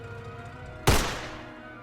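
A single gunshot rings out in a World War I game trailer set on the Western Front. It is one sharp, loud crack that decays quickly over a low, steady background.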